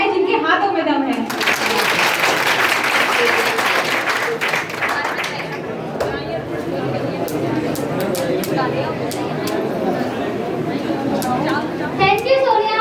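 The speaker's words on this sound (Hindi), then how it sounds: "तालियां वो बजाएं जिनके हाथों में दम है" A farewell-ceremony audience breaks into sustained, dense applause that swells quickly and carries on steadily for several seconds before thinning out, with scattered voices and children audible within the crowd noise.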